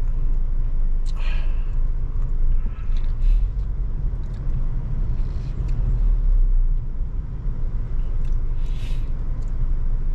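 Expressway traffic rumbles past a moving vehicle, a steady low drone of engines and tyres with occasional brief hisses and passing swells, close and continuous.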